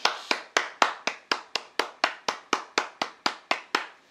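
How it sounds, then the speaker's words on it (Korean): A single person clapping hands in a steady, even rhythm, about fifteen sharp close claps spaced roughly a quarter second apart, alone with no talk. "박수 한번 치겠습니다"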